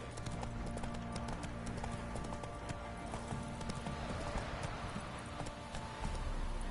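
Horse hooves clip-clop at a steady trotting rhythm in Witcher 3, close and continuous over a constant game ambience bed, with no voices.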